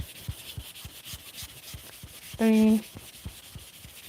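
Hand sanding with sandpaper: quiet, even back-and-forth rubbing strokes in a steady rhythm, broken once by a short electronic tone, while a voice briefly counts.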